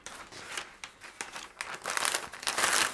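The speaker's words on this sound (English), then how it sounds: "you can put another piece of greaseproof paper over the top" Greaseproof paper crinkling as it is laid over beeswax-coated fabric, a close run of dry crackles and rustles that grows louder toward the end.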